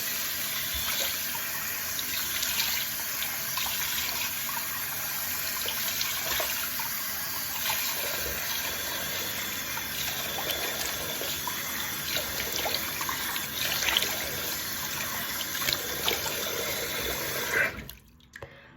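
Water runs steadily from a tap while a face is rinsed with warm water, splashing and trickling continuously for a long stretch before cutting off abruptly at the end.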